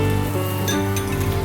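About one and a half tablespoons of butter sizzle steadily as they melt in a hot pan, a loud close hiss with a faint clink partway through and no talking.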